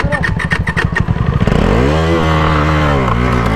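A motorcycle engine revs hard and close, rising into a sustained, loud roar after a short stretch of choppy idling, with voices talking at the start during a rainy ride.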